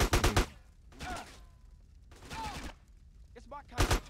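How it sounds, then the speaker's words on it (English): Bursts of gunfire in Grand Theft Auto San Andreas come in several separate volleys, loud and sharp, with a voice talking between and over the shots. "Who is shooting at me?"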